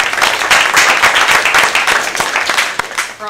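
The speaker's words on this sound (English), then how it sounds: "I'm going to give you a round of applause." Applause from an audience at a school district board of education meeting, a dense steady patter of many hands clapping close by for about three seconds, tapering slightly at the end.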